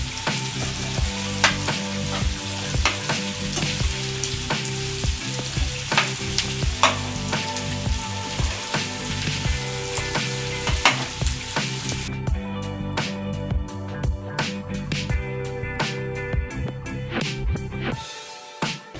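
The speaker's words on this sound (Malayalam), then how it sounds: "അപ്പോൾ ആദ്യം നമ്മൾ ഉള്ളി നല്ല മൂപ്പിച്ചെടുക്കുക എണ്ണയിൽ." Sliced onions frying in hot oil for a chapati side dish, a steady close sizzle with repeated scraping and stirring clicks of a spoon against the pan throughout, no voices.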